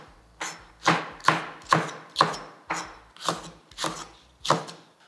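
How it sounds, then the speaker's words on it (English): Knife rough-chopping pimento peppers on a board, about ten sharp, evenly spaced chops in a steady rhythm, close and clear with no talk. "I'm just going to give them a little rough chop."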